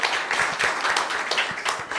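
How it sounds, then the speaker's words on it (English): A symposium audience applauds steadily, many hands clapping in a dense, continuous patter for a couple of seconds with no voices. "applaud, please."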